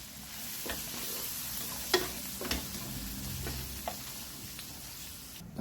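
Meat goes into a hot pan with onion and garlic and fries, a steady broadband sizzle with a few sharp clinks of stirring utensils, close and alone with no talk.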